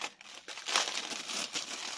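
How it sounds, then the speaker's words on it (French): Crinkling plastic wrap rustles and crackles close up in irregular bursts, a steady crumpling texture with no voices. "Désolé pour le bruit avec le plastique."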